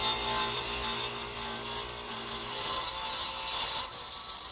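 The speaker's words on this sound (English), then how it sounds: "actually cut the angle on the side pieces, which I'll do over here on the radial arm saw" A radial arm saw set to roughly a 40¼-degree angle cuts through wooden side pieces for a writing desk, giving a steady, close, continuous rasping whine that holds for several seconds with no talk.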